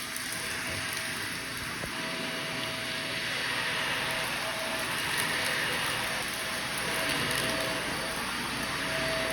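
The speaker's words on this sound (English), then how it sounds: "we want pre-vacuum, that really improves the results of what you're doing" A carpet-cleaning vacuum runs steadily during pre-vacuuming of a carpet, giving a continuous loud broadband whir with a faint tonal hum and no pauses throughout.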